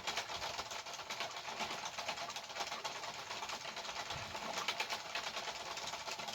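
A Sentro 22-pin circular knitting machine cranked steadily, its plastic mechanism giving a continuous rapid clattering whir, fairly close and unbroken, with no talking over it.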